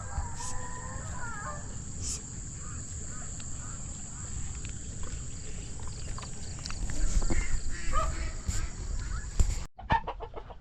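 Chickens cluck and call faintly in an outdoor setting, with insects buzzing steadily and a rustling, brushy background throughout.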